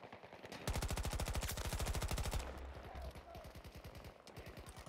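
Rapid bursts of automatic gunfire in a video game tower fight, loud and close, with a fast steady rhythm that pauses briefly and resumes as a second, slightly quieter burst of rounds.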